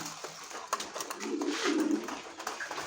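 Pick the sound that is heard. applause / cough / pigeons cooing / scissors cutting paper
pigeons cooing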